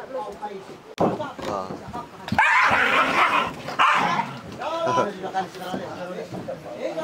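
Several dogs bark, yip and whimper as they are chased off by people on a remote forest island in Southeast Asia, with repeated sharp barks in bursts mixed with voices talking over them.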